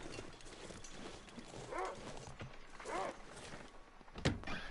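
A big dog in The Long Dark barks a few times at a distance, faint and spaced out against low ambient wind, with a sharp thud near the end.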